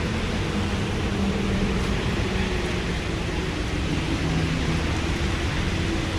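Heavy rain pours steadily in Bangalore, a dense, unbroken hiss of water falling on streets and surfaces, loud and close, with a low rumbling undertone and no voices.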